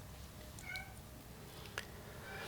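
A pet cat gives a couple of faint, brief meows over a steady hiss of room noise, one near the start and a sharper one later, with no talking.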